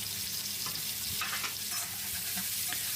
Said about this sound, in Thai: ขั้นตอนนี้เราก็ผัดคลุกเขาไปกับกระเทียมก่อนครับ